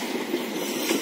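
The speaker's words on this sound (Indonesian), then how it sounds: "telah tiba di stasiun Kutarjo ya. Kereta api Kertanegara ya." Kertanegara passenger train rolling into Kutoarjo station, a continuous rumbling rail roar with faint wheel squeal, heard close and steady without talk.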